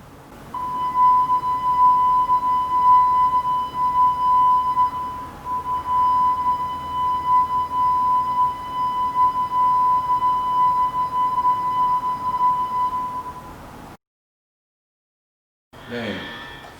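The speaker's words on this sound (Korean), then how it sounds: "가까워졌다가 멀어졌다가 하는 소리를 들려줄게요." A steady electronic test tone swells and fades in loudness as its source is moved nearer and farther away, with a slight wobble in pitch. It runs for about fourteen seconds, then a short burst of other noise follows.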